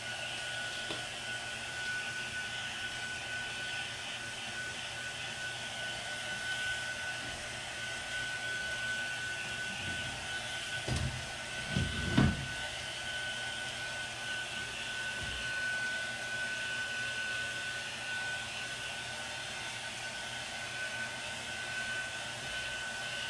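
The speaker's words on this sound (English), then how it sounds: "I'm going to hit this with my little dryer here so that we can make it great" A small hair dryer blows steadily and close by, a constant whirring hiss that runs throughout, with a few brief bumps and shifts in the airflow near the middle.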